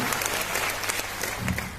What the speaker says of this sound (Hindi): एक बार जोरदार ताली सब लोग